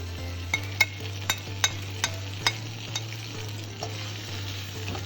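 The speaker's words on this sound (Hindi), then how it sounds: "अब इसमें हमने इसे सौटे करने के बाद हमने इसमें जो चिकन फ्राई किया था वो डाल देंगे।" Fried chicken pieces tossed and sautéed in ginger garlic paste for Chicken 65, a steady sizzle with a series of sharp spoon-against-pan clacks at irregular intervals, close and moderately loud, no voices.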